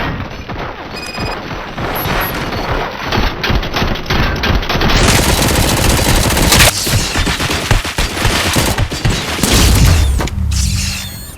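Gunfire in the RoboCop: Rogue City video game is loud and sustained, with continuous automatic bursts, booms and crashing impacts layered into a dense, chaotic barrage that fades near the end.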